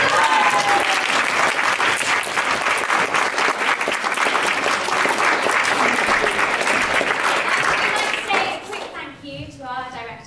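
Sustained, loud audience applause after an amateur school production of The Real Inspector Hound, dense clapping filling the room for about eight seconds before thinning out as the crowd quiets.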